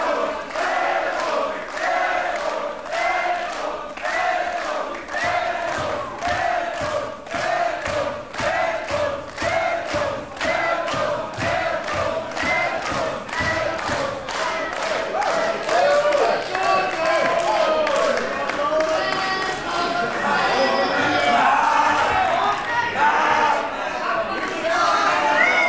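Crowd at a live independent wrestling show, a steady roar of cheering and rhythmic clapping that builds louder toward the end, under continuous excited commentary.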